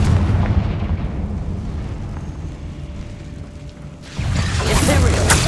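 The Confringo blasting spell in Hogwarts Legacy explodes, with a heavy rumbling boom fading into a low roar, followed by a second loud blast near the end.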